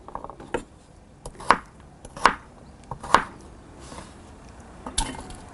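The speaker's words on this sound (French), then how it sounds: "Je coupe ce curcuma magnifique." Fresh turmeric root chopped with a knife on a board: about five separate sharp cuts spaced roughly a second apart, close and clear against a quiet room, no talking.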